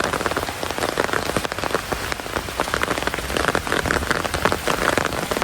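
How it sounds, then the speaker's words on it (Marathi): Heavy rain pours down on harvested rice spread out to dry, a dense, steady patter of drops striking the grain and surrounding surfaces with no pauses and no voices. "काय सांगायचे या पावसाला"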